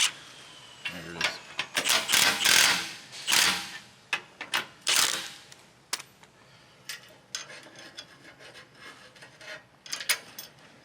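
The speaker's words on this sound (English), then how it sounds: "I'm driving those bolts in just a little bit to line it all back up" Impact or ratchet tool driving bolts into an aftermarket steel rear bumper on a 5th Gen Toyota 4Runner, bursts of buzzing mechanical rattling with pauses between, close and loud, tapering into shorter clicks.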